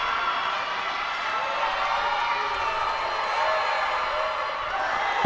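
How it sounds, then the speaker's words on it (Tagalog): A crowd at a junior basketball finals game in an arena cheers and murmurs in a steady, distant, roaring wash, with no clear peaks. "Nakikita mo yung crowd natin getting into it now."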